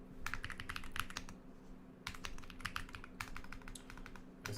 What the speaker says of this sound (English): my typing's so ass